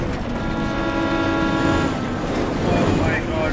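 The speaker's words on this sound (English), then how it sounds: "There's a train coming!" A train approaches in the video game Resident Evil 6, its rumbling wheels and sustained horn-like tones building loud and near, with faint background sound effects and no clear speech.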